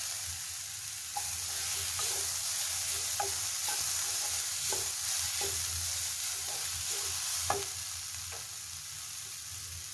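Onions softening in a pan on the stove sizzle steadily, with a string of soft stirring scrapes and taps at irregular intervals, close and even, and nobody speaking.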